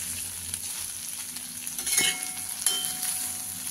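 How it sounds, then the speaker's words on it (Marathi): Masala okra is gently stirred in a lightly oiled pan, a close sizzle with a few soft scrapes and clinks of the spoon against the pan. "भेंडी हलवताना हलक्या हाताने असं हलवून घ्यायची"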